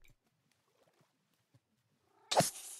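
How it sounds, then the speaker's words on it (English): A cat in the Minecraft video game gives one short, loud meow burst near the end, after a stretch of near silence with only faint scattered ticks. "Where is this cat at?"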